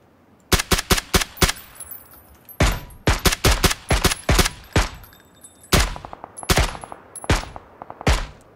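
Repeated bursts of rapid gunfire in PUBG during a duo match, loud and close, several volleys of quick shots separated by short pauses.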